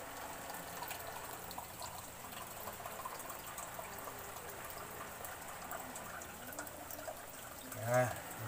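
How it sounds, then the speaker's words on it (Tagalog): Tap water trickles weakly into empty Pepsi soda bottles, a faint, steady pouring and dribbling sound with a brief louder splash near the end; no talk over it. "Yan, lagyan natin ng tubig mga papsi."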